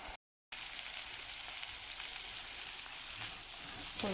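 Rice frying in hot oil in a pot makes a steady, even sizzle throughout, fairly quiet, with a brief silent gap at the start and a light scrape near the end.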